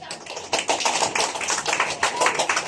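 A group at a workshop activity session claps for a team, producing quick, uneven overlapping claps at moderate loudness that continue without a break.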